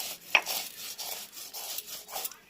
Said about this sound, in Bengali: বাটা বাটির কাজ চলছে, সুন্দর বাটা হচ্ছে